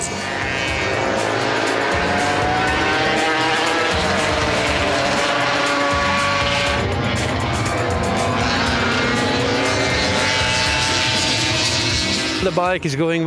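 A Yamaha 125 world-championship racing motorcycle from 1973–74 runs on a circuit at a classic bike event, its engine whining and shifting pitch continuously, loud and close, under a commentator's speech.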